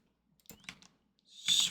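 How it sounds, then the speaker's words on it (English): A bird calls loudly near a microphone during a Minecraft session. A few faint chirps are followed by a sharp, bright call rising at the end of the brief moment. "Bird is loud."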